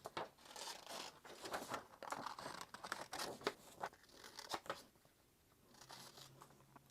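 Scissors cut out paper frames for a strawberry-themed journal spread, making soft, close snipping and crinkling sounds in quick repeated strokes that fade into quiet near the end.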